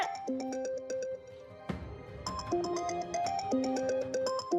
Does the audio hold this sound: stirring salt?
no